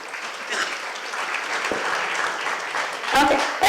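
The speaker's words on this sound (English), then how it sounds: "a huge round of applause first of all" An audience at a hackathon event in Vizag breaks into steady applause, a dense patter of clapping that swells near the end, with a few voices faintly mixed in.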